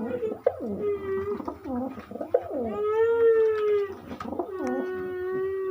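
Madras pigeons coo in a series of soft, throaty calls with rising and falling tones, close by and fairly quiet, with faint background sounds between the calls.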